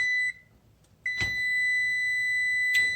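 A locked oven's electronic beeper sounds a sustained tone that cuts out briefly, then resumes and holds steadily, with a few clunking handling noises alongside.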